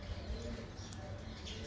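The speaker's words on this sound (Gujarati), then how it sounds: "ચકલીઓ પણ આવી ગઈ છે" Small birds chirp faintly in the early-morning sun, a few short high tweets over a low murmuring background with some soft cooing.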